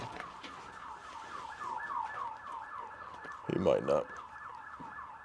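Emergency vehicle siren outdoors in a city, a steady wailing up-and-down cycle at moderate distance that persists throughout, with a person speaking briefly partway through and a louder burst near the end.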